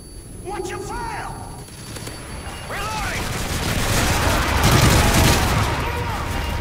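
Rapid gunfire bursts in the game Survival Arkaden build to a dense, loud volley over the second half, with voices talking over it.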